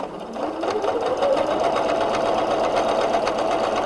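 PFAFF ambition 610 sewing machine doing free motion quilting, a close, steady rapid whirring hum of stitching that starts up and runs evenly at a constant speed.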